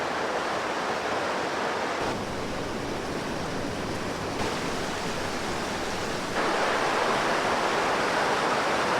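Continuous rushing water splashes over rocks, a dense, steady hiss nearby with no voices.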